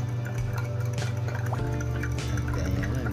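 A small amount of water is poured into a sweet mixture made with brown sugar, a brief close trickle and splash over a low background hum.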